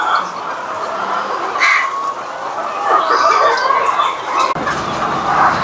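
Laying hens clucking steadily on a large egg poultry farm, a dense continuous flock chorus with occasional louder calls and a rooster-like crow, close and unbroken throughout.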